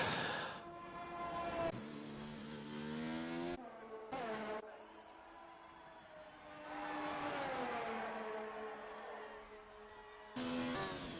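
Simulated Formula 1 race cars in the F1 2019 video game weaving to warm tyres at Belgium, engines revving and shifting with rising and falling harmonic whines, several abrupt cuts between loud passes, no talk.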